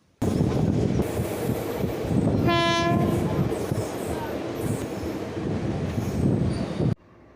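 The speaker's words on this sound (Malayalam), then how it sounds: "ഇത് പൂങ്കുന്നം ഭാഗത്തേക്ക് ഈ ട്രെയിൻ ചെന്നതിന് ശേഷം ഗുരുവായൂർ ഭാഗത്തേക്ക് ഇടതുവശത്തേക്ക് തിരിയുകയാണ്." A train on the Thrissur–Guruvayur line near Punkunnam, turning toward Guruvayur, rumbles loudly and steadily with wheel and carriage noise, and a short horn blast sounds partway through.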